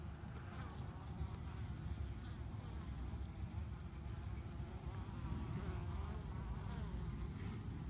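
Worker bees buzz around the hive entrance while bringing in pollen, a dense, continuous hum of many insects close by with individual fly-pasts, no talking.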